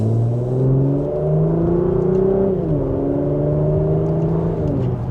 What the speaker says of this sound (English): just a minor acceleration, you can hear the exhaust